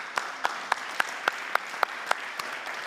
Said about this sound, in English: A big round of applause to my three panelists.